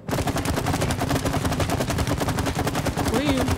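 Sustained rapid gunfire in the co-op video game It Takes Two, a loud, dense automatic burst running steadily throughout with no pause.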